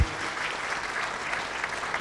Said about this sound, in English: So you all really deserve a big round of applause